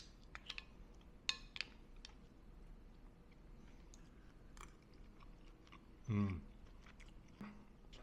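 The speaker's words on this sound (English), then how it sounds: "Let's taste the fish." Quiet, close chewing and soft wet bites of fish from homemade cioppino with farmers' market herbs, scattered mouth clicks over a faint room hush and a short voiced murmur later.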